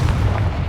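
Confringo spell explosion in Hogwarts Legacy: a single loud, deep boom with a rumbling low body that fills the brief moment and fades only slightly.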